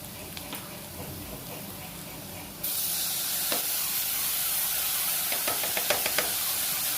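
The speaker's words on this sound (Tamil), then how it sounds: "ஸோ இப்போ நம்ம வந்து வெங்காயத்தையும் போட்டு தக்காளியும் போட்டு நல்லா வதக்கிட்டுருக்கோம்." Chopped tomato goes into a pan of frying onions and a hiss of sautéing jumps up partway through, then settles into a steady sizzle with scattered knocks and scraping of stirring.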